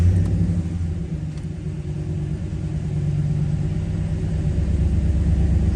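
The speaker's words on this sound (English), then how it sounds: "let's go ahead and start this vehicle up for y'all." A 2016 Ram 1500 Express pickup idles with a steady low rumble after starting, its engine drone even and continuous throughout, close by with no voices.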